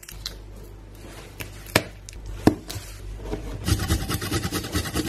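Garlic chopped with a knife on a board in a home kitchen: a few separate knocks at first, then a quick, steady run of close, crisp blade strikes.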